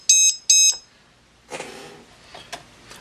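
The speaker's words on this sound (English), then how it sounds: "that is the lost model beeper off of the Hobbymate 5-in-1 power distribution board" A lost-model beeper on a Hobbymate 5-in-1 power distribution board for a quadcopter sounds two loud, piercing, sharp beeps close up, followed by quieter rustling and clicks.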